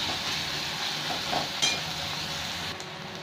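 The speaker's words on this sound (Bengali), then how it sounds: "পেঁয়াজটাকে ভালো করে ভেজে নিই" Steady sizzling of onions frying in a pan, a continuous hiss with occasional light stirring scrapes, close and fairly loud, no voices.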